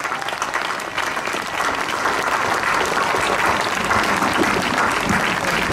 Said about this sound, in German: Ich hätte gern mal einen dicken Applaus erstmal als Dankeschön,